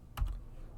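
A computer keyboard gives a couple of quick, close key taps in a short burst while a value is entered in drafting software.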